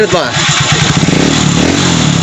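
A Honda TMX Supremo motorcycle with a misfiring engine and a weak battery cranks and catches, then settles into a loud, rapid idle with quick pulsing throttle blips close by. A voice speaks briefly at the start.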